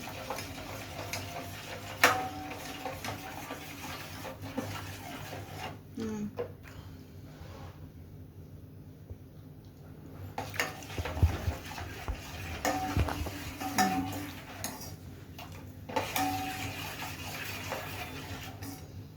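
A spoon stirs sugar into hot chocolate, giving faint, irregular ticking clinks against the cup over a low background murmur.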